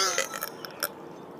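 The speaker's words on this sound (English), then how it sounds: "This is a big-ass burp." Loud, close human burp, a rough voiced belch lasting about a second with a few bursts in it, with nothing else around it.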